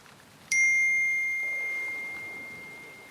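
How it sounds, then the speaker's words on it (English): A single bright phone notification chime rings out once, clear and loud, then fades slowly over a couple of seconds against a near-silent background. "I woke to the loud notification from my phone"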